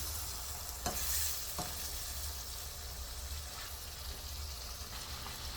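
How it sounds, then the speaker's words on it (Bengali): Shrimp sizzle and fry in a spice paste while being stirred, a steady broadband hiss with a couple of sharp utensil scrapes near the start and faint clinks later. "এই যে চিংড়ি মাছটা দিয়ে আমি এখন এই মশলার ভিতরে চিংড়ি মাছটাকেও কয়েক মিনিট ভালো করে কষিয়ে নেব"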